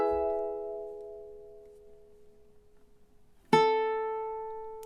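Ukulele plays measure 4 of God Rest Ye Merry Gentlemen: a sustained plucked note rings and fades, then a second bright note sounds near the end and decays, alone with no voice.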